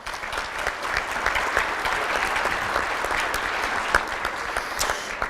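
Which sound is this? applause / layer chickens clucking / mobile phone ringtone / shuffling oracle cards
applause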